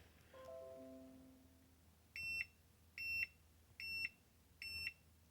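An Ortur LM3 laser engraver after its emergency stop is hit: a short descending chime of stepped tones, then four sharp, evenly spaced high electronic beeps, clear and close in a quiet room.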